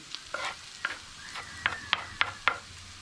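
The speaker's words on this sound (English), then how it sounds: "At this point I might just give that a bit of a stir up." A spoon stirs onions, grated garlic and stock cubes frying in about a tablespoon and a half of oil in a pan, for a beef empanada filling. Quiet sizzling runs under a series of short, close scraping strokes.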